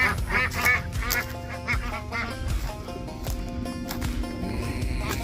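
Farm ducks quack repeatedly in a noisy cluster, several birds calling over each other close by, with a steady hum of a plane in the background.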